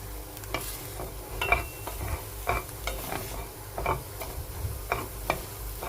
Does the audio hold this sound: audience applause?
no